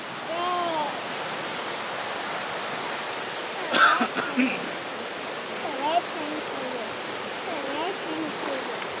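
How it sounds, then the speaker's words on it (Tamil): Steady broadband rush of Ragged Falls on the Oxtongue River in Canada, heard from nearby as a constant roar, with brief bumps and faint voices over it. "இந்த ரிவர் தான் அங்கே கீழே போயிட்டு ஃபால்ஸ் மாதிரி விழுது"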